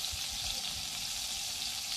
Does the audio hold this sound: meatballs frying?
yes